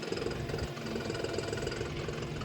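A John Deere 5405 4x4 CRD tractor engine runs smoothly in a steady, close diesel drone with an even low throb and no breaks.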